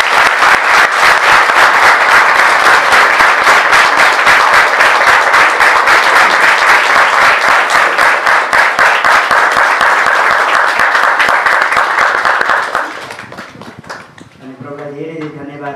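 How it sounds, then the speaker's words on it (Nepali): An audience at a church building dedication ceremony claps in welcome, a loud sustained burst of dense applause that fades out near the end as a speaking voice takes over. "एकैचोटि हामी ताली बजाएर स्वागत गर्नेछौँ"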